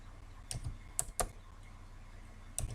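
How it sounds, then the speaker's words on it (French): Computer keyboard being typed on, with the Tab key pressed: a few quiet, separate key clicks with short pauses in between, close by in a calm room. "j'appuie sur le clavier Tab"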